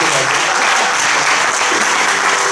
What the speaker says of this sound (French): Continuez d'acclamer